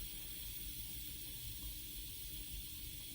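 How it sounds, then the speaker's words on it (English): Steam hisses steadily out of a pressure cooker while peppered steak cooks, a faint, continuous airy hiss with no breaks. "I still hear steam coming out, even though it's not as visible straight up."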